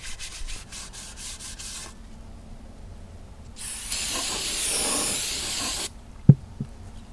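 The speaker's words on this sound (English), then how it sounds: "I'm gonna hit them with some brake clean" Brake cleaner sprays in one long continuous hiss of about two seconds onto the brake drums of a 1962 Ford Falcon, close by, after a few short rubbing strokes and followed by a clunk.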